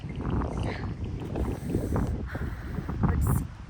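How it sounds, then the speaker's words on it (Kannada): Strong, gusty wind buffets the microphone outdoors in cold, drizzly Ooty, a loud, rough, uneven roar filling the foreground. "ಸಿಕ್ಕಾಪಟ್ಟೆ ಗಾಳಿ ಇದೆ."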